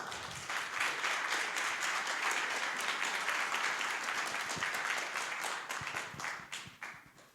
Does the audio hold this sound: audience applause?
yes